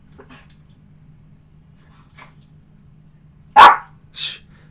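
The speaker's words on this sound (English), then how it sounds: "Sorry, my dog." A dog barks twice in quick succession, loud and close, after a stretch of faint background noise.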